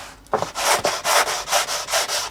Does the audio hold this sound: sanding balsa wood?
yes